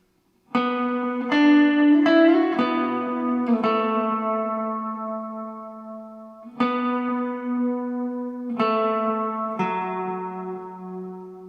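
An electric guitar played through effects plays the lead part of a song: sustained, reverb-washed notes and bends ring out in a slow melodic phrase, clear and upfront.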